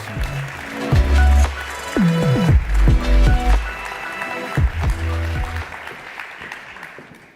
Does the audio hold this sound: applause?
yes